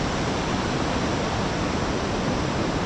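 Steady, loud broadband wash of sea waves at a beach in Hoi An, Vietnam, with choppy water rolling continuously and no distinct breaks or voices.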